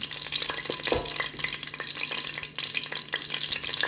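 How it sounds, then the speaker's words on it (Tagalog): Cardamom, cloves, cinnamon stick and star anise stir-frying in oil for a mushroom biryani, with a steady crackling sizzle broken by frequent small pops and spoon scrapes, no voices. "Stir-fry lang natin ng konting minuto."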